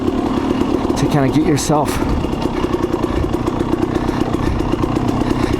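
A dirt bike engine on a trail rumbles and rises in quick throttle blips, clattering steadily close by while someone talks over it.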